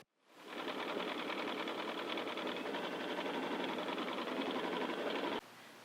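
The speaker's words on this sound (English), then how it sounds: "here we are ready to embroider, and we have our fabric all hooped up and ready to go" Brother Dream Machine embroidering hooped fabric, a steady fast needle chatter that starts up and runs evenly for about five seconds, then cuts off to a quiet hum.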